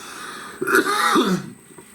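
A single close, raspy throat clearing with a short cough-like burst, loud and alone.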